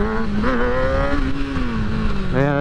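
A 2009 Kawasaki ZX-6R pulling hard in second gear, its engine note rising in a loud, close, buzzing whine with a brief dip and a renewed surge near the end.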